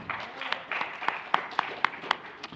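Audience at a C2E2 comic convention wrestling panel claps and cheers in a moderate burst, with scattered sharp individual claps standing out over a murmuring crowd and brief voices.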